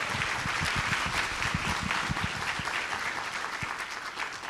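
Audience members at a civil rights symposium at Alabama State University break into a round of applause, with many hands clapping in a steady, fairly distant wash and a few sharper claps standing out.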